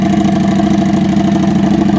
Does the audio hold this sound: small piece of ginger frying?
no